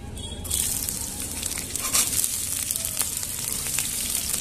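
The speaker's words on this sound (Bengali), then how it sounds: "তো ফ্রাইড রাইসের জন্য সবজিগুলো একটু ভেজে নেব।" Vegetables for fried rice fry in a pan with a steady close sizzle that swells after a quieter first half-second, with faint crackles and stirring throughout.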